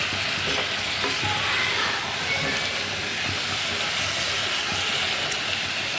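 Chicken being stirred with masala in a hot pan, a dense steady sizzle with faint scraping and knocks from the stirring, close and without voices.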